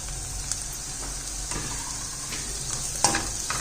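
Garlic frying with onion in a pan for cheese macaroni, a steady sizzle with occasional stirring scrapes and small pops throughout, close and moderately loud with no talking.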